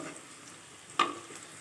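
Onions and leafy greens with a pinch of turmeric are stir-fried in a pan over a raised gas flame. A soft, steady sizzle runs throughout, with one brief scrape of stirring partway through.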